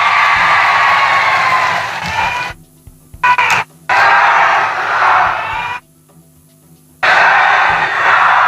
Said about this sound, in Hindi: बहन मेघना बोर्डीकर जी के लिए जोर से ताली बजाओ